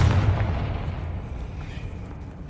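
A Confringo fire spell explodes in Hogwarts Legacy, a heavy booming blast with deep low rumble that decays slowly over a couple of seconds, loud and close.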